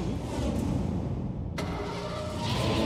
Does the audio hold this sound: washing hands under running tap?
no